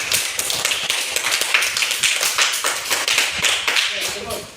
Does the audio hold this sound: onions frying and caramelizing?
no